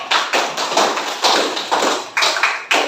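Applause for all the groups in a school classroom: a few loud, sharp claps in an uneven rhythm, close by, with no talk.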